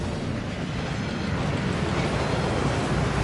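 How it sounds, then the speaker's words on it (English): A waterfall in the Hogwarts Legacy video game roars as a loud, steady, unbroken wash of rushing water. "That waterfall washes away all enchantments."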